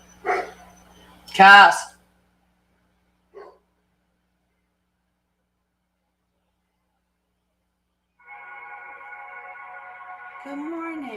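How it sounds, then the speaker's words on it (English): A dog barks indoors nearby, giving a couple of short, sharp barks at the start before going quiet; later a voice speaks and a steady tonal hum follows. "I might have to go get my dog in if he's going to continue to bark."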